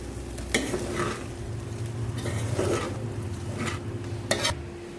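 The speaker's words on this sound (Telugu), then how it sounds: "ఇలా మొత్తం కలుపుకోవాలి." Lemon rice with spices being stirred in a pan, a steady close sizzle with spoon scrapes and a few sharp metallic clinks against the pan, no talking.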